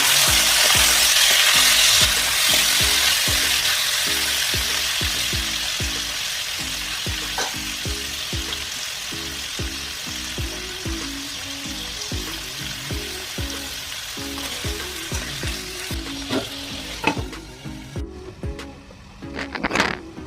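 Half a kilo of chicken fries with onions in a pan for an Assamese chicken curry, a loud sizzle that eases slightly over time while a spatula scrapes and stirs in a regular rhythm, with occasional clinks.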